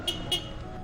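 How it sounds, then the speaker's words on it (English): Two short car horn toots sound over a steady idling engine rumble, fairly close and clear. "I honked. He should have heard me."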